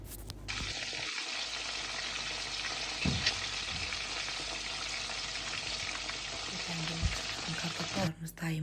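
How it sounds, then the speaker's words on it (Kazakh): Potato pieces frying in hot oil for country-style potatoes: a continuous close sizzle with a few soft knocks and stirring sounds, and no talking. "қызып тұрған майда алтын түстес етіп қуырып аламыз"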